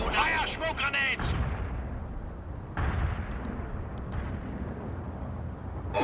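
Artillery and gunfire from the World in Conflict strategy game rumble in a dense, continuous barrage with a few sharper reports. A voice speaks over the opening moments.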